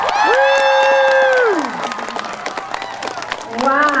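Applause and cheering from an elementary school talent show crowd for the children, loud and sustained, with sung or shouted tones on top early on and talk rising near the end.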